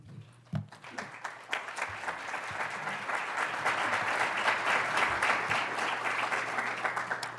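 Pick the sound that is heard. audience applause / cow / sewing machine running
audience applause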